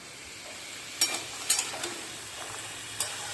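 Vegetables with salt and turmeric frying in a pan for a vegetarian dish with potato and bori, a soft low sizzle underneath a few sharp scraping stirs of a spatula.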